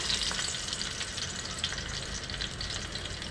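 Garlic sizzles in hot oil with mustard seeds and curry leaves for a dal tempering, a close, steady crackling fry with sharp pops throughout.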